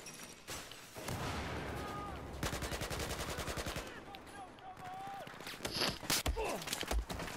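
Rapid automatic gunfire in Battlefield 4, dense bursts of shots firing in quick succession with scattered single cracks and footsteps, fairly close and loud, a few faint voice-like tones in the mix.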